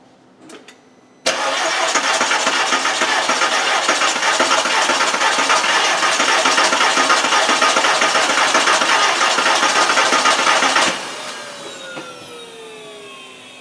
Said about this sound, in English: Let's crank it over.